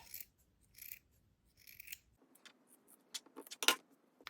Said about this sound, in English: we are gonna fold this in half and cut it into a diamond shape